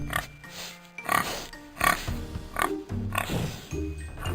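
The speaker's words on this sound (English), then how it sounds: "5 pigs." Several farm pigs oink and snort in a lively series of short, loud grunts, repeating in clusters at close range with brief pauses between them.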